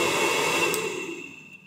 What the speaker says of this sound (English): Cool, the blower motor works.